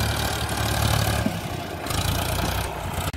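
A tractor engine idles and runs steadily at close range, a continuous low mechanical drone with a brief dip near the end and no voices over it.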